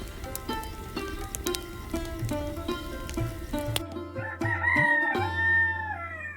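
A rooster crows loudly in the foreground, its rising calls standing out over a steady, busy background of chirping birds at dawn in a village.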